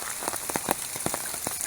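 Light rain falls outdoors on a November lawn of newly grown grass, a steady soft patter with scattered close drops ticking through it.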